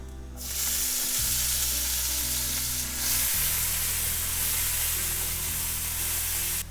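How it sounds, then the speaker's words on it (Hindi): Onions hit hot oil in a pan for dal fry and sizzle loudly and steadily, the crackle broad and continuous as they are stirred. "अब हम ऐड कर देंगे अनियंस।"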